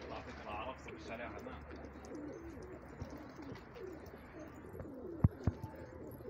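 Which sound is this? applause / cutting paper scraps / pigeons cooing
pigeons cooing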